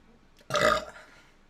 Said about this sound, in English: That was an angry burp.